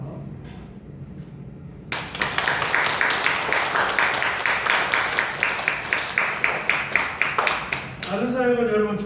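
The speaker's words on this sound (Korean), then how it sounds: "인사할 때 여러분 큰 박수로 위로해 주시기 바랍니다." A church congregation bursts into loud, sustained applause for two lawyers, with many hands clapping in a rhythmic, regular beat for several seconds. Speech is heard faintly before the clapping starts and again as it fades.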